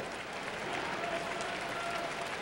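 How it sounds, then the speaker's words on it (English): Oklahoma State Cowboy fans cheer and applaud in an arena at a 2002 NCAA Tournament first-round basketball game, a dense, steady roar of clapping and crowd noise with a faint announcer voice mixed in. "Letting the Cowboy fans cheer for Fred Yanzin one more time"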